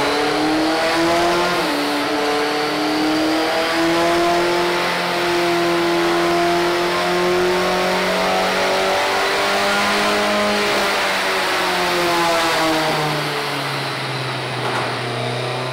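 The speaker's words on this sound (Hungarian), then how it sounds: "ahogy szólt ez a motor, meg amilyen gyorsan felbőgött" A race car engine revs hard and steadily on a dynamometer, a loud, sustained tone that climbs and holds for over fifteen seconds with no talking.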